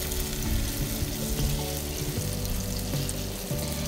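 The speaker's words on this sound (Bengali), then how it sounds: "ঠিক একইভাবে পরের বড়াগুলোও ছেড়ে দিচ্ছি।" Bitter gourd fritters frying in hot oil, a dense, even sizzle with light bubbling, close and moderately loud, without speech.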